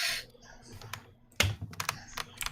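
Computer keyboard typing up close, a quick irregular run of clicky keystrokes with one louder thump of a bar key partway through.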